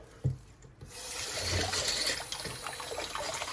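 Water rinses the parts of a disassembled motor during degreasing and washing, a steady close rushing splash that begins after a brief knock and runs on unbroken.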